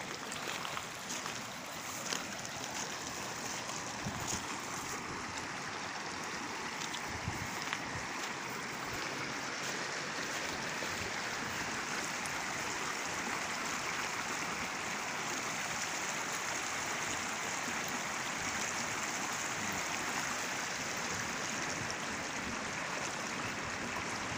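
The Tama River flowing at dusk in its middle reaches, a soft, continuous wash of moving water with a faint airy hiss, steady and fairly distant.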